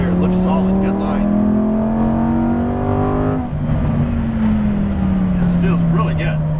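A 2018 Lamborghini Huracan Performante roars steadily on a race track, its engine note climbing through the revs, dropping at a shift, then climbing again, loud and close, with talk mixed in underneath.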